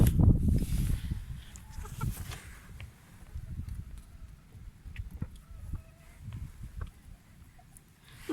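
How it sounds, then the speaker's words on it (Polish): Two-year-old Srebrytka chickens, four hens and a rooster, cluck softly around the coop in the morning, with scattered rustling and footsteps under the low murmuring calls. "Są to cztery kurki i kogucik."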